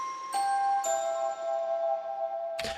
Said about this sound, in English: We have pitch percussion, with Glockenspiel and Celeste, both from Nucleus, which have been treated with some reverb.